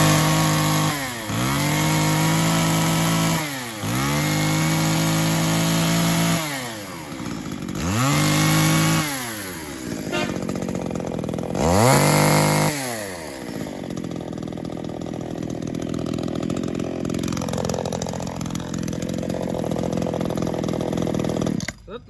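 A Tanaka 330 mini chainsaw with a 37 cc cylinder is pulled several times until it fires, then revs loudly up and down close by before settling into a steady, even idle.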